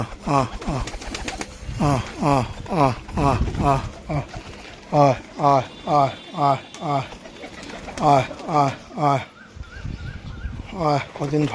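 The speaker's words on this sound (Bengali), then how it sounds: "পায়রাগুলো আজকে সব ছেড়ে দিয়েছি বাইরে খেতে দেওয়ার জন্য" Several pigeons let outside to feed coo in repeated rhythmic bursts, fairly close and steady across the stretch, with a brief quieter gap near the end.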